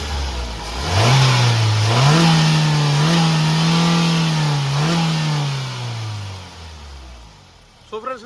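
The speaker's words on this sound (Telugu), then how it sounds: "ఒకసారి ఎక్సలేటర్ ఇవ్వదాం." A 2014 Maruti Suzuki Swift VXi petrol engine is revved close up, rising from idle into a sustained high rev that wavers a few times, then falls back and settles before a short knock at the end.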